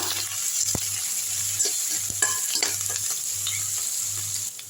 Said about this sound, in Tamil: வெங்காயம் போட்டுக்கலாம் அடுத்து ஒரு கைப்பிடி அளவு கருவேப்பிலை போட்டுக்கலாம் நல்லா வதக்கி விட்டுருங்க